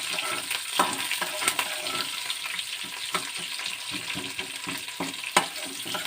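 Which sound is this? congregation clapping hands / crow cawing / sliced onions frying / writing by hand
sliced onions frying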